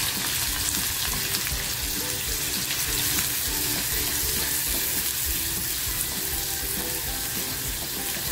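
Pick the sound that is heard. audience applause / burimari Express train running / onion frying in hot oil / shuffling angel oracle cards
onion frying in hot oil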